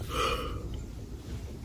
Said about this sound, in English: Why do I keep yawning?